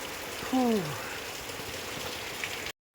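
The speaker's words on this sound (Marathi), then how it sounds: "पाऊस खूप मोठा पडतो" Steady rain patters softly throughout, with a brief voiced sound rising over it near the start.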